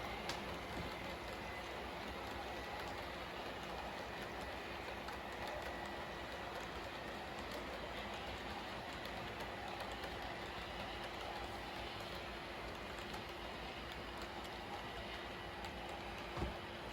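An HO scale model coal train rolls steadily around a 48-inch radius curve, giving a constant low rumble and light track clatter that stays even throughout with no talking.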